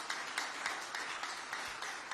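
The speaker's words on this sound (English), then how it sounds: "please let the applause be louder for the man of vision and integrity and the man" Applause at a political rally, a faint, steady patter of many hands clapping from a distance, with no speech over it.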